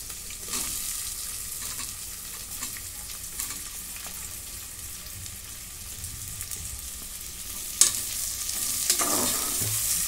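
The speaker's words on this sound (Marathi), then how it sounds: "कांदा चांगला लालसर भाजून घेते." Onion frying in a pan for masala rice sizzles steadily throughout, with close stirring scrapes and occasional utensil clinks against the pan.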